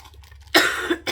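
A sharp, close cough burst followed by a smaller second cough and another short one at the end, after a quiet moment.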